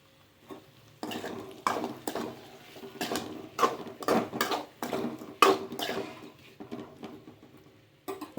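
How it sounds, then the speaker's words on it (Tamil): Potatoes being stirred and sautéed in a pan over low heat, with repeated scraping and clinking of a spoon against the pan and a soft sizzle underneath, in irregular bursts. "சிம்மிலே வச்சு இதை வதக்கி விடணும்"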